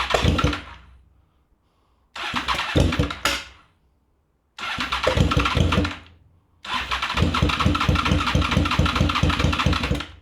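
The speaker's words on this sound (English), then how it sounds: "I managed to get the bike started, although it was only for like a second" Crashed 23-year-old Honda VFR800 motorcycle engine cranking and catching in four bursts separated by silence, the last run lasting several seconds as a steady, close, loud rumble.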